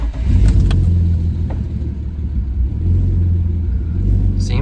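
A turbocharged BMW E46 engine idles steadily in a garage after a year of sitting, running loud and close with a deep rumble and no voices.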